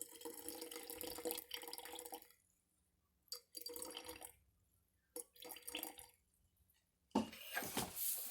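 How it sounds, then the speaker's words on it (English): Warm water runs from a tap in bursts to feed a sourdough starter, several separate pours with short quiet gaps, ending in a louder splashing rush. "4 ounces of warm water."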